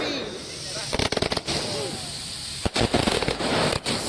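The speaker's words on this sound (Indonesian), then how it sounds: "pesta kembang api." Fireworks burst over the town square in Pati, a rapid string of sharp crackling pops in clusters with short pauses between, and voices in the background.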